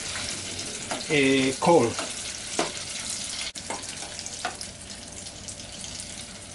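Potatoes frying in hot oil two at a time, a steady broadband sizzle running throughout, with a brief spoken word and a few sharp clinks and bumps.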